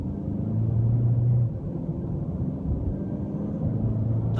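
A 2014 Chevy Sonic LT with a six-speed automatic pulls away under gentle throttle, a steady low engine rumble and road drone heard from inside the cabin, swelling slightly at the start and then holding even.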